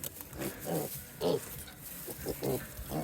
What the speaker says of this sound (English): You silly pig.